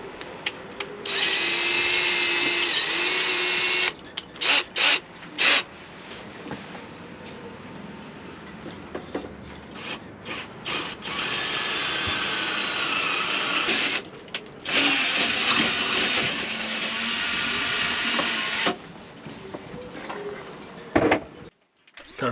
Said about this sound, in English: time to change drill bits to the final drill size.